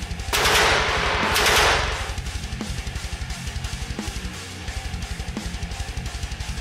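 Gun turret firing in a tabletop vehicle combat battle, loud rapid automatic bursts up front giving way to a steady mechanical rattling stream of shots, no speech.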